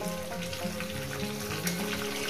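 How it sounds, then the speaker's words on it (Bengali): A catla fish head frying in hot oil, sizzling steadily and evenly at a moderate level close by, with no voices. "একটু উল্টি পাল্টি ভেজে নেব।"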